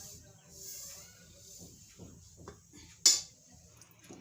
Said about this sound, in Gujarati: એને આપણે આ ડીશમાં કાઢી લેવું.